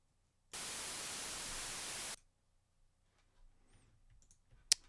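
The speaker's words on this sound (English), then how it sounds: "So we need some white noise." A burst of harsh white noise from the Harmor synthesizer plays for about a second and a half, then cuts off abruptly. Faint clicks and a sharp tick follow in near silence.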